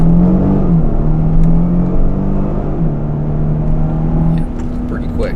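A 2019 Genesis G80 pulls away at full throttle, its engine loud and close from inside the cabin, the note rising steadily and stepping back through a gear change before easing off.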